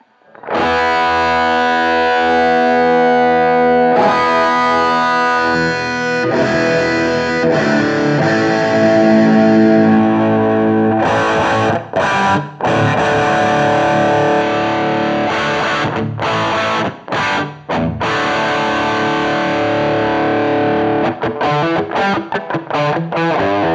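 Distorted electric guitar through a TwoNotes Torpedo Live amp and cabinet sim, the virtual mic shifted between the center and edge of the cone, playing loud sustained riffs that turn brighter or more muffled, broken by short stops.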